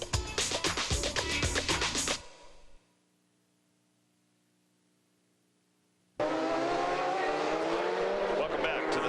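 Race cars roar loudly on the Long Beach Grand Prix street circuit in a 1990 GTO/GTU event, the engine din cutting off into near silence before resuming at full volume under commentary.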